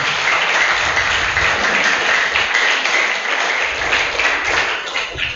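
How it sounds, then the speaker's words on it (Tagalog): Congregation or audience clapping loudly together at a church recognition gathering, a full sustained burst of many hands that softens slightly toward the end. "yung palakpak natin malakas, di ba?"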